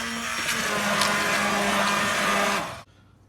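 A blender whirs steadily at high speed for nearly three seconds, grinding asparagus and potato soup loudly, then cuts off abruptly into quiet.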